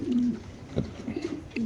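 Racing pigeons coo in low, throaty, rolling calls close by, a couple of soft phrases overlapping with faint bird and market background.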